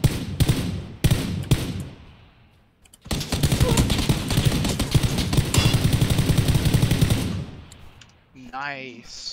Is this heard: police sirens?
no